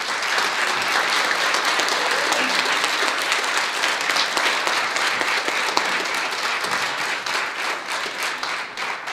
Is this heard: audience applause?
yes